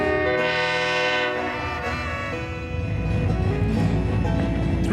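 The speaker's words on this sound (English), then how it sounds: "Union Pacific trains move into the residential neighborhoods of Superior's East End" A Union Pacific train rolls at a steady 10 miles an hour through the residential East End of Superior, its horn sounding loud at the start before giving way to a continuous heavy rumble and clatter of wheels and cars.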